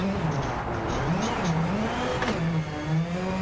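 A rally car engine in WRC 9 revs up and down through the gears at Torsby, its close, rising and falling drone steady throughout with a brief crackle midway.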